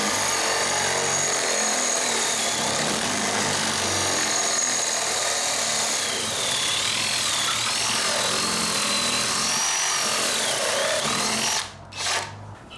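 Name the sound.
bandsaw making an angled cut in scrap wood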